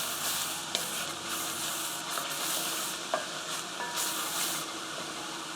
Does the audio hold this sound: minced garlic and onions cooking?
yes